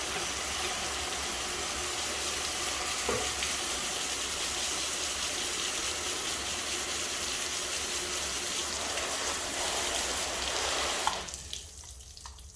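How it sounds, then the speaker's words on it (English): Water sprays steadily over a car tire during a rinse after a ceramic tire dressing is applied, a loud continuous hiss for about eleven seconds before it cuts off. "Let's go ahead and rinse this thing off."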